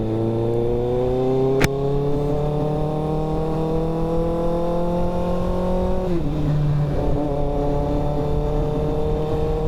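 Motorcycle engine hums steadily while riding, its pitch slowly climbing and then dropping briefly at a gear change, close and continuous with wind noise and no talk.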